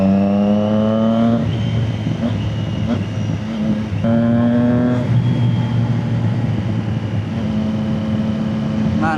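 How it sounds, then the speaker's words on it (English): A motorcycle engine revs hard to high RPM up close. It climbs in loud, repeated surges that sweep up in pitch, then settles back between pulls. Steady engine drone continues throughout. "Man, I love hearing this bike high RPM."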